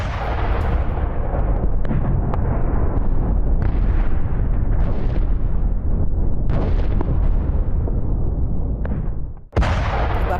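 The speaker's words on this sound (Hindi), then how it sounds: "इंडोनेशिया ने चीनी नाव को उड़ा दिया और मछली पकड़ने वाली चीनी नाव को कैसे उड़ाया गया उसकी तस्वीर देखिए" Chinese fishing boat blown up by Indonesian forces: a sustained, loud roar of blast and burning rumble runs throughout, with sharp booming bursts, a brief drop near the end, then another loud hit.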